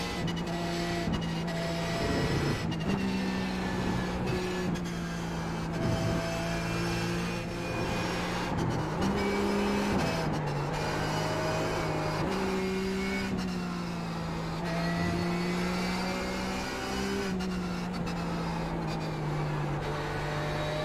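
A Porsche 911 GT3 race car engine in the iRacing sim at Circuit of the Americas, droning steadily near and loud, its pitch rising and dropping through gear shifts and corners for the whole stretch.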